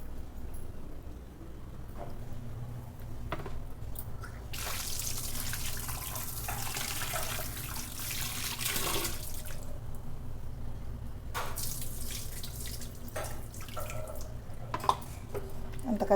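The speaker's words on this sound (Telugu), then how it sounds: "అందుకనే కొంచెం ఇలా చేసి మళ్ళీ ఒకసారి కడుగుతాను." Small fish and tamarind leaves are rinsed in a vessel of water, giving sloshing and splashing bursts with dripping in between, under a steady low background hum; a voice speaks briefly.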